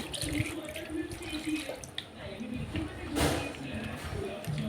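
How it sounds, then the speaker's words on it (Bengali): Water pours into a pot of hilsa fish rubbed with spices, a soft, continuous splashing stream that stays close and fairly quiet, with a few small knocks of the pot. "এবার পরিমাণ মতো পানি দিয়ে দিচ্ছি"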